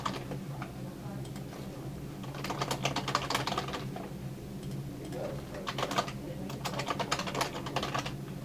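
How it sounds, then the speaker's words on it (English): Someone types a name and email address on a computer keyboard, with quick bursts of close, crisp key clicks separated by short pauses, and no voice over them. "So we have to enter our name and our email address. We have to type that twice."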